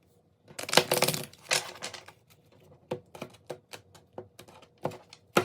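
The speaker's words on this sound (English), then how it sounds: "take my cards, I'll shuffle them first" Crisp riffling and flicking of stiff oracle cards being shuffled, a few longer riffles followed by a run of quick separate snaps, close by and quiet.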